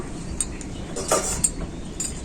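A cooking pot of fish curry lifted off the stove, with a few light metallic clinks and scrapes of the pot and utensils, close and fairly quiet.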